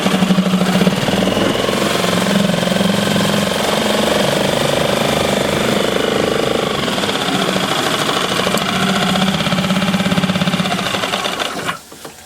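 A 30 HP four-stroke outboard engine runs steadily in gear, a loud, close, continuous mechanical drone with rhythmic knocking that holds for most of the stretch before cutting off abruptly near the end.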